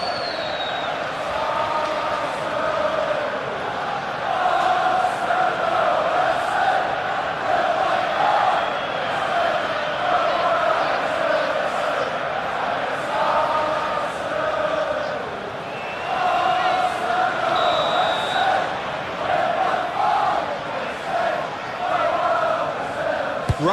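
A stadium crowd at Arsenal vs Atletico Madrid roars and cheers after Saka's shot, a dense sustained swell of voices and whoops that dips briefly and surges again.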